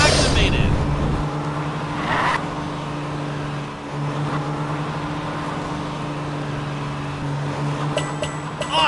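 A car driving in the PJ Masks Hero Academy video game, a steady engine drone that runs continuously with brief tire squeals. Game music plays over it and there is no speech.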